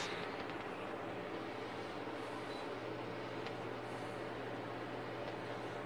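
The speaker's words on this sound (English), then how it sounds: "The noise you're hearing is coming from that light, that fan right there." A steady, low mechanical hum with faint broadband whir runs unchanged throughout from a YUHAO 52-inch ceiling fan with lights spinning quietly nearby, with no talking.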